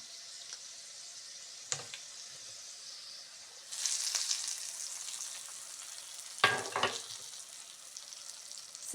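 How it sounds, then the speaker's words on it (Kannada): Spices splutter in hot oil for a tempering poured over a kohlrabi peel gojju, giving soft crackling and a couple of sharp sizzling bursts against a quiet kitchen background. "ಈಗ ಒಂದು ಗಮ್ಮತ್ತಿನ ಒಗ್ಗರಣೆ."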